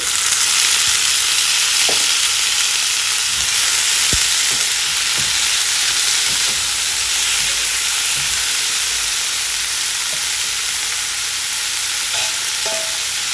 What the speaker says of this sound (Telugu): ఉల్లిపాయలు కొద్దిగా వేగాక 2 టమాటాలని ఇలా ముక్కలు కోసి వేసుకోవాలి.